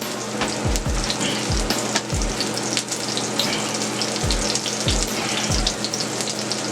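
A piece of tilapia frying in a pan on the back burner, with a steady close sizzle and a series of soft low thumps and knocks, no talking.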